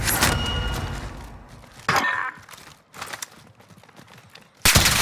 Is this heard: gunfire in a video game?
yes